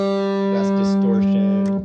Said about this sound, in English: That's distortion